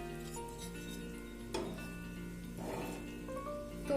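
Almonds frying lightly in a pan for moong dal halwa, a soft steady sizzle with occasional clinks and stirring taps, close and fairly quiet, with no talking.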